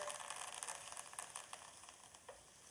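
A flipped bone-in ribeye steak sizzles steadily in the pan, a soft, close crackle of frying fat with small popping spikes and no voices.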